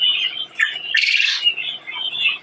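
Caged quail chirping and calling in a steady run of bright, close tweets and squawks, with one louder burst of calls partway through; no talking.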